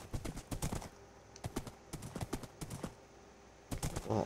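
Hooves of a horse in the Minecraft video game tap in short, uneven clusters. The steps are close and light, with brief gaps between them and no voices.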